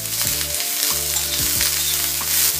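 Onion frying in oil until brown makes a loud, dense, steady sizzle close by, broken by a few quick scrapes of a stirring spoon and with a low hum underneath, and no voices.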